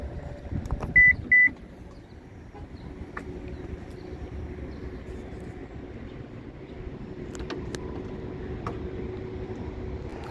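The power liftgate on a 2019 Subaru Outback Limited SUV closes: two short electronic beeps sound near the start, followed by a faint, steady low hum with occasional small clicks and no voices.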